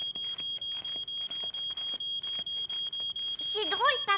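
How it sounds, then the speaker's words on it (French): A smoke alarm set off by burnt bread beeps in a steady, rapid, high-pitched pulse at close range. A voice speaks over the beeping near the end. "Mon pain a brûlé et la fumée a déclenché l'alarme."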